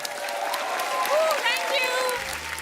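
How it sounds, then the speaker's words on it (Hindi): A studio audience at a television comedy show claps steadily, with dense applause running throughout. Faint tonal voices or music sit over it, and a low hum enters near the end. "जोरदार तालियां हो जाए एक बार।"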